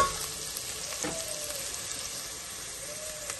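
Onions sautéing in a pan for minced meat macaroni, giving a steady, fairly quiet crackling sizzle with a few faint utensil taps, and no voices.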